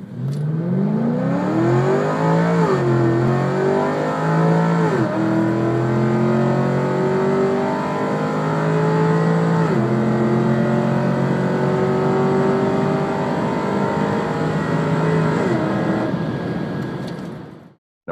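A Chevrolet SS with a 6.2-liter V8 rated at 415 horsepower revs and pulls through rising and falling engine tones, loud and close, with no talk over it.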